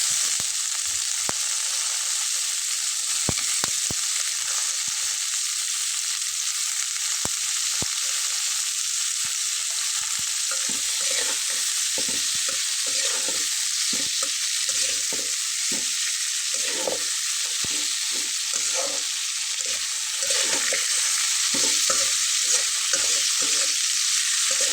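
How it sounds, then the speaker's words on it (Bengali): Yardlong beans fry in a pan with a constant bright sizzle, broken by frequent scraping and clattering as they are stirred, close and steady for the whole stretch without talk. "এখন আমি এর ভেতরে বরবটিটা দিয়ে দেবো।"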